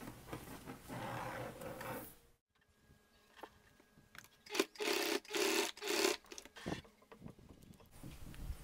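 A domestic sewing machine stitches a fabric bag strap in several short buzzing runs separated by brief stops and soft handling noises, moderately quiet and without speech.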